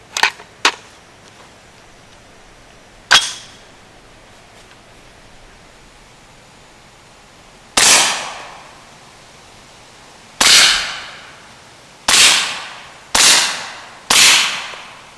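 Sharp muffled gunshots from a suppressed rifle firing 220-grain subsonic 300 Blackout, a few quick pops then several evenly spaced louder reports with short decaying tails, outdoors and fairly close.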